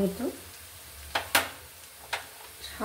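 Spices and turmeric fry in a pan with onions browned deep red, a soft sizzle under scattered scraping strokes of the spoon as the mix is stirred.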